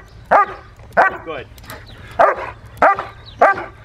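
A young German Shepherd barks in five sharp, close bursts during back-tied play training, spaced roughly every half second to second, with a brief word of praise from the handler.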